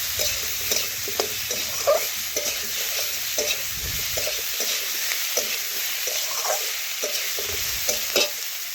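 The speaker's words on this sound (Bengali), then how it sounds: "এটাও ভালোভাবে পটলের সাথে একটু ভেজে নিচ্ছি।" Chopped onion and pointed gourd (potol) sizzle steadily in a pan, a constant hiss of frying broken by repeated soft clinks and scrapes of stirring.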